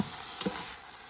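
Lasagna sauce simmers in a slow cooker pot, a soft continuous bubbling sizzle with a brief stir in the middle, short and fairly close.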